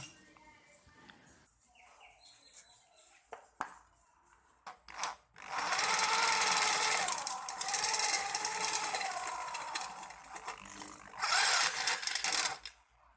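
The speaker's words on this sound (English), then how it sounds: "Then I proceed to drill holes on the square tubing so that I can insert a steel rod" A drill bores holes in steel square tubing for a Honda CRF250L center stand, starting with a few scattered clicks and knocks, then a loud, rising, whining grind that runs for several seconds, eases, and surges again near the end.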